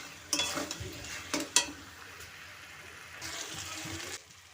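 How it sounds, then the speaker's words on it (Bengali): Fried potatoes stirred into a pan of peas ghugni, with a few sharp scraping and clinking stirs over a soft sizzle and a short hissing swirl near the end, close by and with no talking. "দিয়ে আমি আরও একটু নাড়াচাড়া করে"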